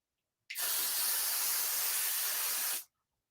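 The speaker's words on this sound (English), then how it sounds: "I can spray all over because it's not going to weigh my hair down" A shimmering hair shine spray misted over hair in one continuous, even hiss lasting about two seconds, close and alone, with silence before and after.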